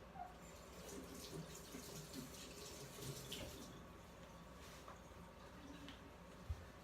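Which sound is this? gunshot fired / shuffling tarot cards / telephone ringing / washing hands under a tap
washing hands under a tap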